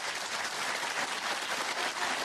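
Snooker crowd in Belfast at the Northern Ireland Open applauding a century break, a steady, dense wash of clapping from a sizeable audience that carries on throughout without talk.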